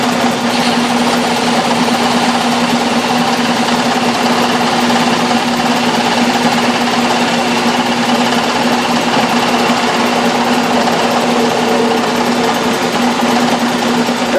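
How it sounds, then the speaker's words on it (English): A metal lathe faces the end of a part with a carbide tool, giving a loud, steady motor hum with a fixed low tone and a dense, even cutting hiss throughout. "Now I'll face the end with my carbide tool."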